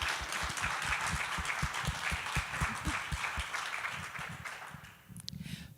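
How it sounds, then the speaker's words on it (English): Theatre audience applause at a jazz and improvised music event: steady, dense clapping at moderate level that thins and tapers off near the end, with low thumps running beneath it. "we can do applause"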